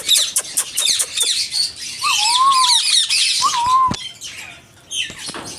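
An albino ringneck parakeet at a bird breeding farm gives sharp, repeated squawks and rising whistled calls. The calls are fairly close and loud, with other bird chatter around them.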